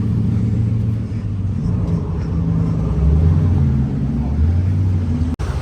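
Supercars, including a red Porsche 918, driving past with loud, close engine rumble and revving, a continuous deep roar rising and falling across the passes.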